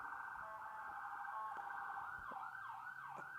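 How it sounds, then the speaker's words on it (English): A wailing ambulance siren sweeps up and down continuously, loud and fairly close, with its pitch gliding in repeated falling yelps. "You can offer the ambulance sounds and pray for whoever it is they're going to."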